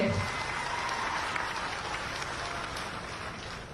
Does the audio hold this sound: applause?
yes